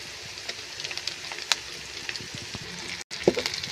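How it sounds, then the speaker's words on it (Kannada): Ginger garlic paste fries in a hot pan for egg rice, giving a steady soft sizzle with light crackles and pops close by. No one talks over it. "ಶುಂಠಿ ಬೆಳ್ಳುಳ್ಳಿ ಪೇಸ್ಟಿಂದ ಹಸಿ ವಾಸನೆ ಹೋಗೋವರೆಗೂ ಫ್ರೈ ಮಾಡ್ಕೋಬೇಕು"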